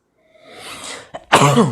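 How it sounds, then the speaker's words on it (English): A single sharp sneeze bursts out close by, preceded by a quick sharp inhale, and ends abruptly. "First sneeze in the channel for quite a while"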